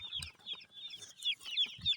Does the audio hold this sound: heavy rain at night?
no